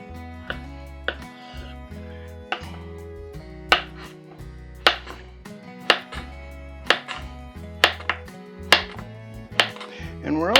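A knife chops yellow squash on a cutting board in about a dozen sharp, evenly paced strikes, close and crisp, with no voices over them.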